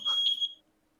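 A fire alarm gives a short shrill high beep that pulses briefly and then cuts off into near silence, with no voices.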